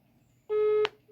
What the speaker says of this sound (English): she's yet to pick up the phone